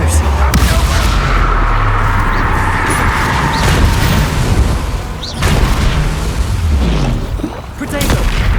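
Repeated booming fire-spell blasts from the Confringo curse in Hogwarts Legacy, loud and close, landing one after another in a dense barrage with brief gaps between bursts.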